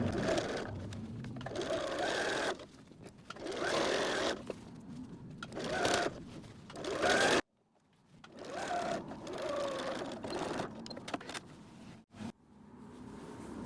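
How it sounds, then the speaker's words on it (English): Close, loud sewing machine running in bursts as it stitches over a drawstring casing seam on a fabric beach bag, with short pauses between runs and one abrupt stop midway. "We're going to sew right over top of this drop here."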